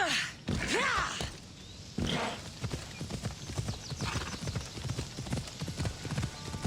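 Hooves of a ridden horse in Assassin's Creed Odyssey clip-clop in a quick, even galloping rhythm, loud and close, with a whinny near the start and game ambience beneath.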